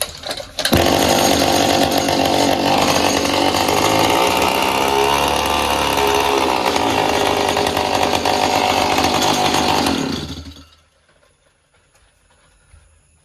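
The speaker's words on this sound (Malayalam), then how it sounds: "സൈലൻസർ അഴിച്ചു മാറ്റിയിട്ട് സ്റ്റാർട്ടാക്കിയിട്ട് ആക്സിലേറ്റർ കൊടുക്കുമ്പോൾ നല്ല സൗണ്ടിൽ വർക്ക് ചെയ്യുന്നുണ്ട്" A loud, raw engine roars without a silencer for about ten seconds under the accelerator, harsh and continuous, then cuts off, leaving near silence.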